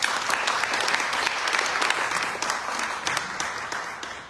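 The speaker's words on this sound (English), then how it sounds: "please give them a round of applause before we get started" At a Republican primary debate for a Texas congressional district, held at Southern Methodist University, the audience welcomes the candidates with a short burst of applause, dense crowd clapping that swells and then gradually fades over about four seconds.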